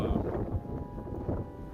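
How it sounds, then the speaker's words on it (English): Low, rumbling wind buffeting a microphone, steady and loud throughout with gusty surges. "So sorry it's so windy out here. I'm trying not to get too much wind noise for you guys"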